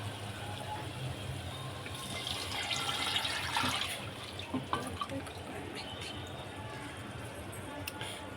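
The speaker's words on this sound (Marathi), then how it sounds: "आता आपण यामध्ये ॲड करून घेऊया पाणी मसाल्याचं" Water poured into a pan of green-chili mandeli fish curry masala, a steady broadband splash and trickle that swells in the middle and fades toward the end, close by, alone without talk.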